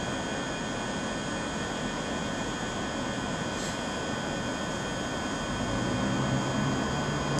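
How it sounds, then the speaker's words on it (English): A ScotRail service, locomotive 17428 on the 12:11 to Dundee, pulls out of platform 5 at Glasgow Queen Street with a steady low engine rumble that grows slightly louder near the end, no talking. "now getting ready to depart off platform 5, will be 17428 with the 1211 ScotRail service to Dundee"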